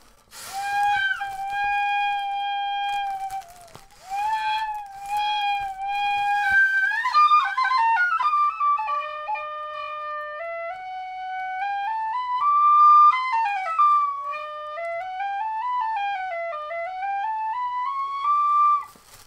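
Homemade trash whistle pipes, a makeshift bagpipe-style instrument, play a clear, bright whistling melody alone, with sustained notes, quick ornaments and sliding runs throughout.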